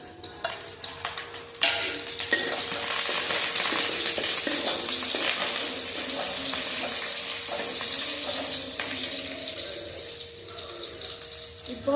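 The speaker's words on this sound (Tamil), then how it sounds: "பச்சை மிளகாய் நல்லா வதங்கணும்." Green chillies and curry leaves sizzle and fry steadily in a hot pan, a loud continuous crackling hiss with occasional stirring clinks, no talk.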